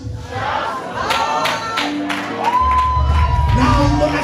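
Church congregation shouting to the Lord, a loud mass of overlapping voices and cries swelling and holding, with a few raised individual shouts standing out.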